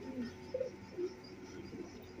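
A Rampuri billa pigeon gives a few soft low coos, close but faint, in a quiet room.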